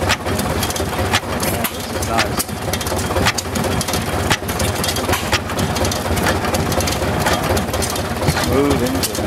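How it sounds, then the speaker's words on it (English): A Samson hit-and-miss stationary engine runs at an outdoor show, a busy mechanical clatter with periodic sharp firing thumps over steady noise, while people talk nearby. "That's a beautiful engine right there. Ah, little hit and miss."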